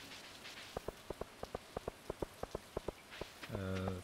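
Rain in the farming video game Stardew Valley, rendered as a soft patter with a regular run of distinct droplet ticks, quiet overall, ending in a short chime-like game tone.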